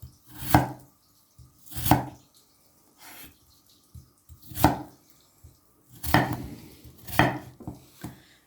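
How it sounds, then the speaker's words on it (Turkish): A knife chops cauliflower into cubes on a cutting board in separate sharp strikes, about seven over several seconds, close and clear with short quiet gaps between. "İşte bu şekilde küp küp doğruyoruz."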